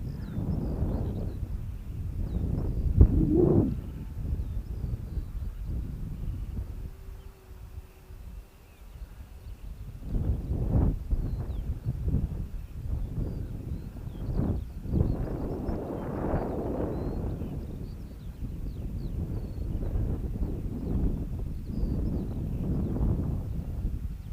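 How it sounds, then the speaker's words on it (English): Gusty wind buffets the microphone in uneven bursts during a small foam RC plane flight, swelling and easing with low rumbling roars, no voices heard. "It's too windy for this little one"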